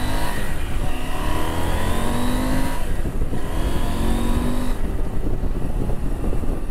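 A car accelerating hard in rally mode on an open road with no traffic, its engine note rising steadily and strongly, loud and close throughout, with gear-change dips partway through.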